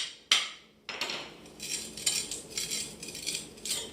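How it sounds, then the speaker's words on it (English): Hammer striking a nail against a carpet tack strip to lift it, one sharp metallic strike, then a run of quicker, lighter taps and scrapes at close range. "And hammer it right here."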